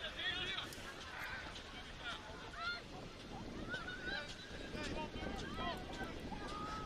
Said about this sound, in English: So the wind's just picking up here at Logan Park